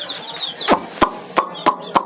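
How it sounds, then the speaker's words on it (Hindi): Young chicks peep and cluck up close inside a shed, their high calls cut through by a handful of sharp, evenly spaced knocks. "तो चूज़ों को देखते हैं"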